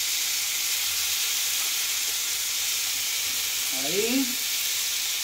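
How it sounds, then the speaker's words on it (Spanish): Potatoes sizzle and fry steadily on a disc pan alongside beef and loin with spices, a dense continuous crackle throughout, with someone speaking briefly near the end. "vamos a poner unas papitas aquí"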